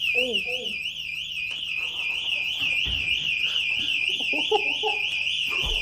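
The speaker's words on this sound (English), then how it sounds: "the feeling of leaving a store and the buzzer buzzing" A store security alarm buzzes steadily at the exit, a continuous warbling electronic tone running the whole time beneath scattered people talking nearby.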